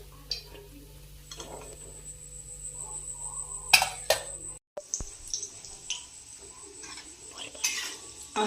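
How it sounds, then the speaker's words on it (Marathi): Fried khoya gulab jamun are lifted out of a pan of hot oil with a metal utensil, giving scattered clinks and scrapes over a faint steady background hum. "हे तळलेले गुलाबजाम काढून घेऊयात"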